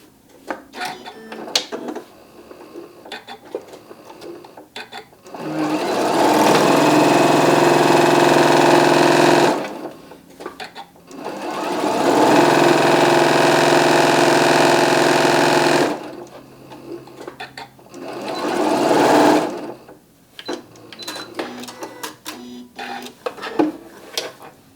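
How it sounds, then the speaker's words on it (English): Sewing machine stitching a quarter-inch seam around lining pieces for a curvy bag, running in three long loud steady bursts of several seconds each, separated by quieter pauses with small handling clicks and rustles. "we're just going to sew all the way around"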